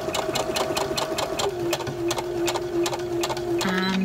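A sewing machine stitches curtain fabric in a rapid, steady mechanical patter, loud and close, briefly changing pitch near the end as the stitching shifts.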